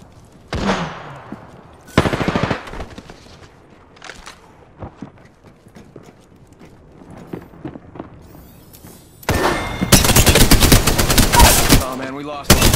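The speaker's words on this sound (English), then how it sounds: "enemies are shooting at me." Video game gunfire from enemy shooters: a loud opening shot, a sustained burst around two seconds, scattered quieter shots, then a dense, prolonged automatic volley near the end, with faint footstep-like ticks between.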